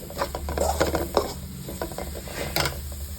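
Masala frying in oil with fenugreek leaves for a black chickpea and spinach curry, a soft sizzle under short rhythmic stirring scrapes and light pan taps, close and fairly quiet.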